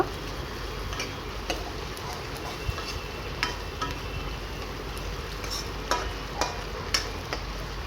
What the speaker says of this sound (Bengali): কাঁঠালের বীজগুলো দিয়ে কিছুটা আমি ভেজে নেব